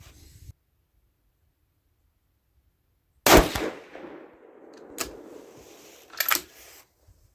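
Rifle shots from a 6mm ARC firing Hornady 65-grain V-MAX loads: after a brief sound and a silent gap, one loud close report with ringing decay, followed by two more sharp bursts a couple of seconds apart.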